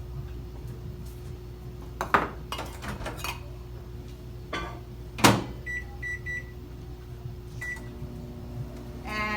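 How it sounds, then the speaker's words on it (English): Seasoned chicken heating in a microwave oven, its steady hum running underneath, with a few clinks of dishes and cutlery and short high beeps toward the end. "So I'm going to put this in the microwave."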